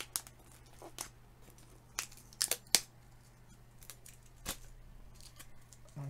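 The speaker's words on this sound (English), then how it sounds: "Let's peel the tape off the back of this." Tape is peeled in several short, sharp rips off the back of a CNC-cut piece, close and distinct against a quiet background hum, with pauses between pulls.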